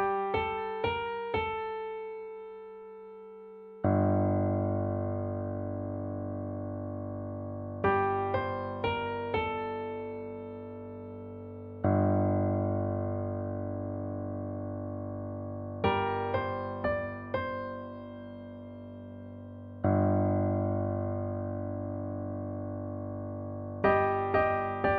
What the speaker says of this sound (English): the piano kind of quietly states the same, but it adds a sense of sadness because it is a lone instrument playing this theme